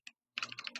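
A few quick keystrokes on a computer keyboard, one isolated tap followed by a short burst of clicks, close and quiet.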